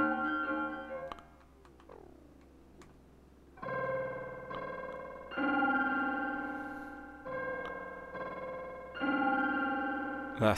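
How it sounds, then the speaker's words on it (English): Wires plugin echo delay applied to an ominous hip hop beat, producing repeating synth chords with trailing echoes and a decaying swept tail, loud throughout with brief quieter gaps between phrases. "we're just going to use the echo section of it"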